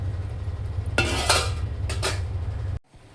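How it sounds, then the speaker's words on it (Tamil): A metal lid clanks onto a pot of simmering gravy in a few quick knocks, near and clear, over a low simmering rumble. "மூடி வச்சிடலாம்."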